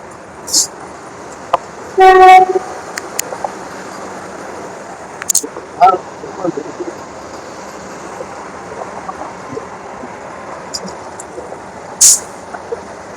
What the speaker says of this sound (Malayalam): അങ്ങനെ നമ്മൾ വന്ന സമയത്ത് എല്ലാം വന്ദേ ഭാരത് പോവുകയാണ്.